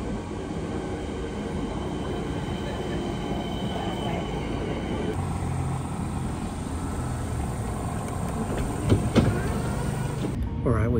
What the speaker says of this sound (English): All right, we have successfully boarded the train